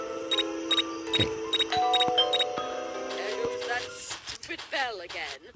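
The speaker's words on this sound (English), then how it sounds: "There goes that stupid bell again." A doorbell in the horror video game Scary Teacher 3D's Halloween house chimes in a quick repeated series of bright dings over game music, followed by other game sounds toward the end.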